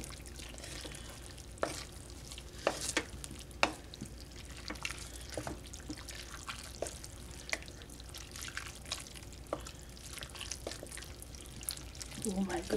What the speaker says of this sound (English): I'm going to give it a good stir. Scrape down the sides.